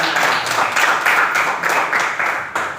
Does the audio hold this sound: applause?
yes